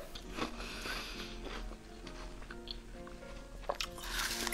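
Close-up crunching and chewing of bead ice cream eaten from a shoe-shaped cup, with soft bites, squishy mouth sounds and light scraping in an irregular rhythm.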